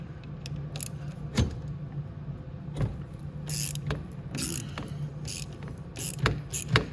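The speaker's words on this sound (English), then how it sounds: "Now we're gonna need our 10 mil, and the reason we need our 10 mil is loosen our two bolts off the sprocket itself." A 10 mm wrench works on the front sprocket bolts of a Venom x22 125cc motorcycle, giving faint, scattered metallic clicks and jangles over a quiet background hum.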